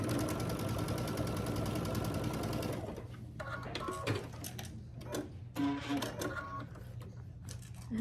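A sewing machine stitches a quilt block, a steady dense whir running for about three seconds, then stopping and giving way to quieter scattered handling sounds.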